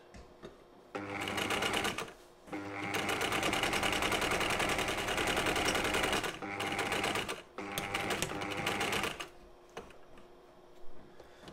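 A Singer 319 sewing machine stitches small test seams, a loud, fast, steady mechanical whirring and clatter in several long bursts separated by short pauses, close up with no talking.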